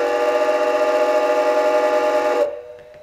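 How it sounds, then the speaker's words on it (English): A long, loud, steady toot from the whistle of a Bachmann diecast NYC Hudson model locomotive, holding for over two seconds before cutting off abruptly into near silence. "The whistle, long toot."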